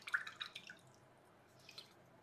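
A few small drips of water fall onto a wet paint palette in quick succession, close and quiet, then a lone faint drip follows after a short pause.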